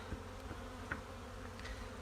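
A strong early-spring honeybee colony buzzes in a dense, continuous drone inside the opened hive during inspection, close and even, with no voices.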